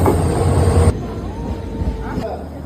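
A train at Sivasagar railway station, with a heavy rumbling engine that cuts off abruptly and leaves a quieter station hum and a faint high tone. Nobody speaks.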